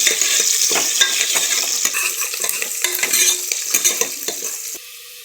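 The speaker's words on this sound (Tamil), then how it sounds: "வெங்காயம் போட்டுக்கலாம். நல்லா வதக்கிக்கலாம்." Onion sautéing in a pan with cumin, coriander and curry leaves, a continuous sizzle with a spoon repeatedly scraping and clattering against the pan, close and fairly loud, quietening near the end.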